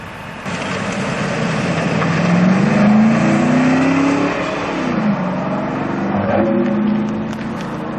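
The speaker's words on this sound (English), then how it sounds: "Not a bad cop car, that one. It'll go alright." A police car drives past on a road, its engine loud and close, rising in pitch as it accelerates and then sweeping down as it goes by, with the motor still audible afterward.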